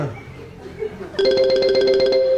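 A telephone ringing as a call is placed, with a steady electronic ring tone starting partway through after brief low background noise. It is clear and close.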